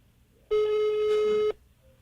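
A single telephone tone sounds steadily for about one second, clean and fairly loud against a quiet background, then cuts off abruptly like an unanswered call signal.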